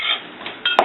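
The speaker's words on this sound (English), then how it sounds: "and stir it with a spoon" A spoon scraping and clinking against a pan while stirring milk and corn flour, with a few distinct metallic taps near the end over a steady low hiss.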